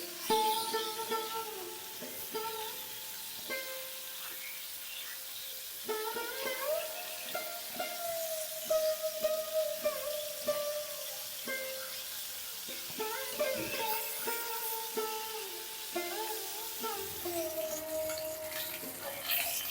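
Pomfret fish fry crisp in hot oil, a soft and steady sizzle with occasional stirring noises, fairly quiet, with faint voices or tones now and then.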